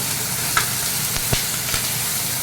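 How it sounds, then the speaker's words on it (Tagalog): Food sizzles and crackles steadily in hot oil, with a few sharper pops and spatters breaking through the continuous hiss. "prito prito lang muna"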